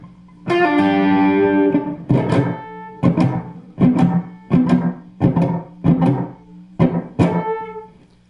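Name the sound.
guitar played with echo effect, Shawn Lane technique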